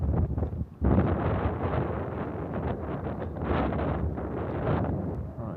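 Strong outdoor wind buffeting the microphone where catapult-launched gliders are being flown, a loud continuous rumbling roar with gusty surges and a brief dip near the start.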